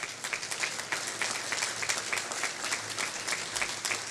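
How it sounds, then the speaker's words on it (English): A crowd applauds a developer honored at a public event in a city; a steady, full wash of many hands clapping at moderate distance, unbroken and without speech for the whole stretch. "So he deserves an incredible round of applause for"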